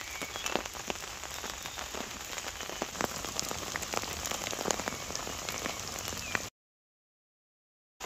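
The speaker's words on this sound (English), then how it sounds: "Still raining." Steady rain patters on the taut fabric of a Dutch Army hooped bivvy overhead during a storm, dense and continuous, with sharper individual drops tapping through, then it cuts off abruptly.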